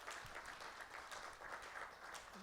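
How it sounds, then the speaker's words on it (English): A morning gathering of an audience at an HBCU event gives a round of applause, a dense, even wash of many hands clapping, moderately loud and sustained without pause. "Give them a round of applause"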